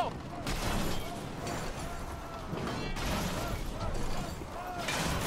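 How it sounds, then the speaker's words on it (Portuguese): Ballista shots fire from a ship in the naval video game Skull and Bones, with several heavy, booming launches landing a few seconds apart over a constant rumbling sea-and-battle background. "essa balista é irada pra acertar"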